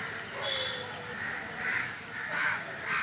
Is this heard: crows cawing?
yes